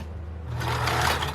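Sewing machine stitching a side seam on a thrifted bedsheet being made into a pioneer skirt, starting from quiet into a steady close whirring run of stitches.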